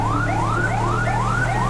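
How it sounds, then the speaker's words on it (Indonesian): Police car siren in GTA 5 with an Indonesian police mod, a loud rising wail repeating in quick sweeps over a steady engine drone, with no talking. "kita nyalakan sirine ya teman-teman"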